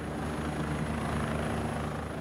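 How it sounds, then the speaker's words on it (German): A night-flight-capable helicopter landing at its base, a loud steady rotor and engine roar filling the whole stretch without break, close and unbroken, with no voices over it. "landet der nachtflugfähige Helikopter auf seiner Basis"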